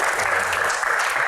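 Audience applause for a singer at an indoor Q&A event, a steady dense clapping from a sizeable crowd, loud and continuous throughout without pause.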